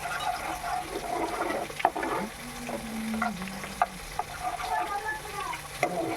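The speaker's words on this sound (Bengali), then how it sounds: "ভালো করে নেড়ে চেড়ে নিচ্ছি।" Cashews with spices, a splash of water and a little sugar being stirred in a pan, a soft continuous sizzle with spoon scrapes and clinks against the metal.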